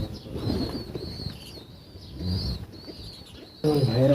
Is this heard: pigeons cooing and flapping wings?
yes